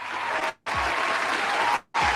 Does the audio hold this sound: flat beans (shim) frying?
no